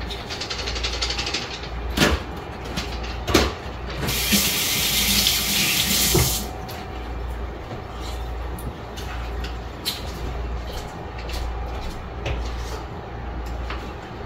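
Water runs steadily from a tap into a sink, with a few sharp clatters and a louder gush of flow partway through.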